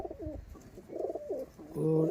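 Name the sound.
Mirab pigeon cooing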